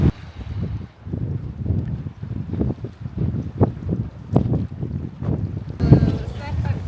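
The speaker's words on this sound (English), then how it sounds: "Certainly is quite windy here this morning." Gusty wind buffets the microphone in low, rumbling bursts on a Montenegro island in the morning, with a person speaking under the noise outdoors.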